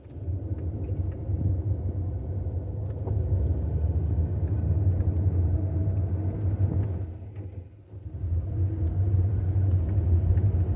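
A manual Corvette pulls away hard after the clutch is dumped, giving a loud, continuous low engine rumble and road roar from inside the car, with a brief dip near the end as the gear changes.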